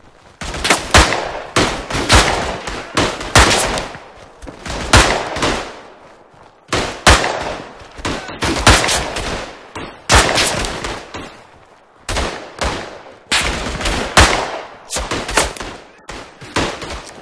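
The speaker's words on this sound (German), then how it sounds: "Aber krass, 8 Schuss im Revolver." Rapid, loud revolver shots in the WWI shooter Tannenberg, fired in repeated bursts with brief pauses between them, each crack echoing sharply over faint battlefield ambience.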